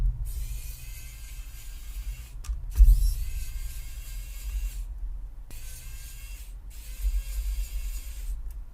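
Small bolts being unscrewed during the teardown of an Asus Chromebook CX15 laptop, with soft mechanical clicking and scraping in bursts separated by brief pauses, close up and fairly quiet.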